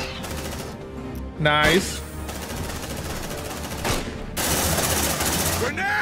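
Gunfire in Aliens: Dark Descent, rapid bursts of automatic weapon fire and impacts in a sustained firefight, with a brief voice speaking over the shooting.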